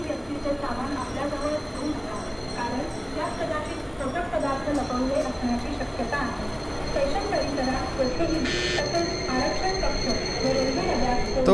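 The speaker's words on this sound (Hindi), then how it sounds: "अब देखो ये लोकल ट्रेन यहाँ से डिपार्ट भी कर रही है" A Mumbai local train on the Churchgate–Goregaon slow line pulling out of the station, with rumbling wheels and clanks under a busy platform, a bell ringing and people talking throughout.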